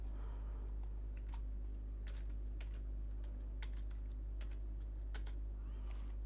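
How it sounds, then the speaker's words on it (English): Irregular keystrokes click on a computer keyboard while a command is entered in a Linux terminal, close and fairly soft over a steady low electrical hum throughout. "I will type this command."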